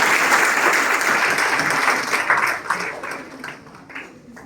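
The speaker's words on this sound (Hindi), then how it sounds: "कृपया तालियों की गूंज से उनका स्वागत करें।" Audience applause welcoming a speaker at a free sanitary pad distribution ceremony held by a women's charitable trust. Dense, steady clapping from a crowd fills the whole stretch, thinning slightly toward the end.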